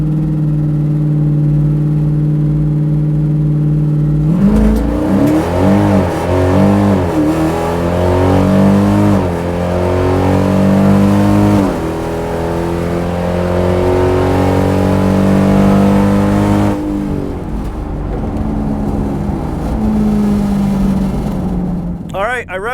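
A drag racing car's engine revs hard and accelerates at a bracket drag racing event, pitch sweeping up and down repeatedly for several seconds, then holds a steady drone before easing off near the end.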